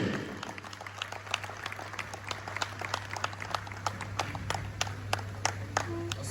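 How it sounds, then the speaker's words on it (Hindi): An audience at a housing project opening event claps for Rana Zahid in scattered, distinct claps, with a steady low hum beneath. "ज़्यादा ताली होनी चाहिए राणा जाहिद साहब के लिए"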